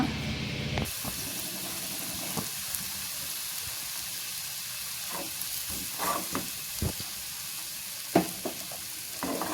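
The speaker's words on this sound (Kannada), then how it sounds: "ಮಸಾಲೆ ಎಲ್ಲವೂ ಸ್ವಲ್ಪ ಹೊತ್ತು ರೋಸ್ಟ್ ಮಾಡ್ಕೊಳ್ಳೋಣ" Masala for crab masala roasts in a hot pan with a steady bright sizzle, broken by scattered sharp clicks and scrapes of a spoon stirring against the metal; close and continuous, with no talk.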